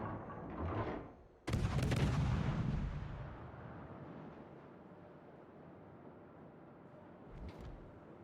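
Naval gunfire from warships in World of Warships: a low rumble builds, then one heavy, sharp blast lands with a booming, slowly fading roar, and a faint thump follows near the end.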